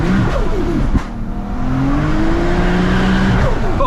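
A 700 bhp Nissan R33 GTR Skyline accelerating hard in first gear, its engine note climbing steadily in a loud, close, continuous roar with a brief dip midway and no talk over it.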